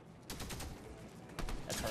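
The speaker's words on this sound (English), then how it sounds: "That turret's kind of powerful." Turret firing in the video game Fortnite: rapid, dense bursts of loud gunfire that swell and repeat over two seconds, close and punchy, with game noise mixed in.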